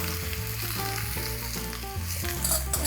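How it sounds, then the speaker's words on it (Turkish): Apples tossed into a hot enamel pan for apple cookie filling give a steady frying hiss and crackle at close range, over a faint tonal hum, with no speech. "Sonra direkt elmaları da içine atıyorum."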